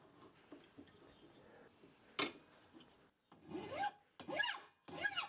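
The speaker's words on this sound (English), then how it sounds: "flip it over in the vise and file the opposite side in the same way" A metal file rasps across a bolt clamped in a vise, soft scraping early on, then several loud, distinct back-and-forth strokes close by, with brief pauses between them and no talk.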